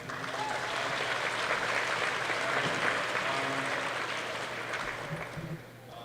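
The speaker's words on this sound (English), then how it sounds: "let's give them a round of applause, man." Sustained crowd applause for a junior basketball team at a championship game, dense clapping filling the gym steadily for several seconds before tapering slightly at the end, with faint voices mixed in.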